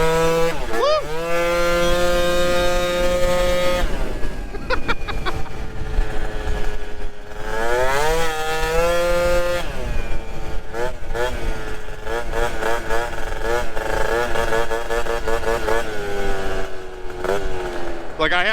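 A modified, jetted moped engine that goes over 65 mph screams as it accelerates hard, its pitch sweeping upward through repeated rising revs and gear changes, loud and continuous throughout.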